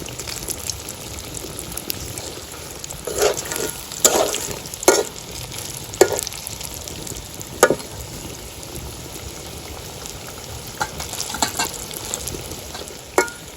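Village-style chicken fingers frying in oil, stirred now and then: a steady sizzle broken by several sharp stirring scrapes and clinks. No one speaks.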